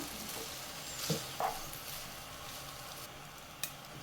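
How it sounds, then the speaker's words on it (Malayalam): Rice for butter garlic paneer fried rice is stir-fried over a medium to high flame, giving a soft, steady sizzle broken by a few light clicks and scrapes from stirring. "മീഡിയം ടു ഹൈ ഫ്ലെയിമിൽ നല്ലതുപോലെ ഇളക്കി മിക്സ് ചെയ്ത് ഈ റൈസും കൂടെ ഒന്ന് ഫ്രൈ ചെയ്തെടുക്കണം"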